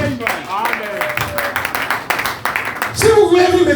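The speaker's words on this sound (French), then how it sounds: "Applaudissons Jésus." Church congregation at a Sunday service breaking into applause, a close, uneven patter of claps with scattered voices and shouts rising over it toward the end.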